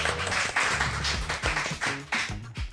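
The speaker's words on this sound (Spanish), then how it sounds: "Un aplauso también" A studio audience at a televised interview program gives a short round of clapping, with uneven claps close together over a low hum.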